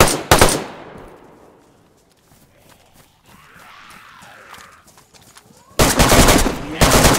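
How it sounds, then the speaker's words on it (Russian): Gunfire at zombies in the DayZ video game: a loud burst of rapid shots opens, then a quieter stretch of faint rustling and movement, before another heavy run of close, rapid fire closes things out. "Я зомби стреляю спокойно."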